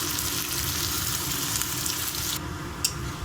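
Thinly cut green chillies sizzle in hot oil with onion, mustard seeds and cumin, a steady close crackling hiss that eases off slightly near the end.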